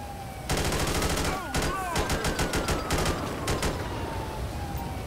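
Rapid automatic gunfire rattles in repeated bursts during a mass shooting scene, close and loud, with brief pauses between volleys.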